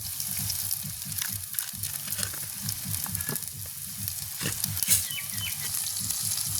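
Chopped chillies and fennel seeds sizzle in hot oil with onions in a village kitchen, a loud continuous frying hiss with scraping stirs and occasional pops throughout.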